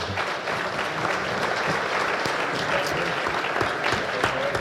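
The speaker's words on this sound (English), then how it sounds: "So let's give a round of applause for Michael real quick." Steady audience applause at a cocktail-party panel event, a dense, even wash of many hands clapping throughout, loud and sustained with a faint voice beneath.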